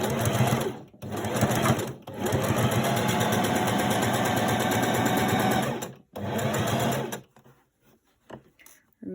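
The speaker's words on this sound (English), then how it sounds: "we're actually going to be stitching around the perimeter of the mask to form the final piece" A sewing machine stitching around the edge of a pleated fabric face mask, with a steady, close mechanical whir that runs for several seconds, stops briefly, resumes, and then stops again.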